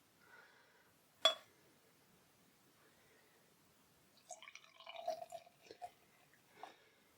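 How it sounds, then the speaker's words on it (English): Plum porter beer is poured into a glass, a soft clink followed by faint splashing and gurgling trickles at close range in a quiet room. "So the other one is being poured into the other glass"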